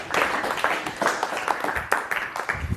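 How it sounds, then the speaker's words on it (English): A modest audience gives a round of applause. The claps are crisp and uneven, rising and falling in small bursts for a few seconds at close range. "Big round of applause for this guy."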